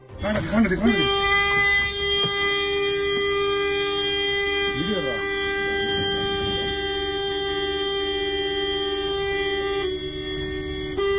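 A bus's loud, sustained air horn blares at an elephant for several seconds, steady and close, after a few short blasts at the start, ending abruptly.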